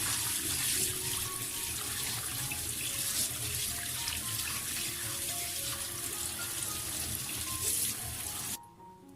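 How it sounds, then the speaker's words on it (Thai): Tap water runs steadily into a sink while pork liver is rinsed, a continuous broadband splashing rush close by that stops abruptly near the end. "เปิดน้ำล้างออกแบบนี้เลยค่ะ"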